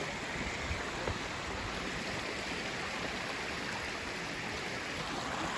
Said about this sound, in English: The little creek down below.